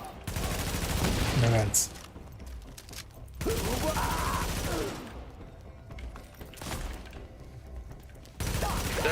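A deployed turret gun fires sustained bursts in The Division 2, loud rattling volleys broken by brief pauses over game ambience, with a voice speaking briefly.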